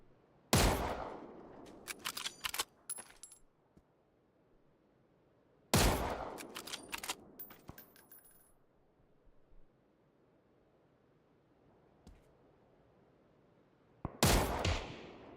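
Gunshots in PUBG burst out in three separate clusters of sharp, loud, quick-fire cracks, each trailing off into a low hum before the next volley, with no talk over them.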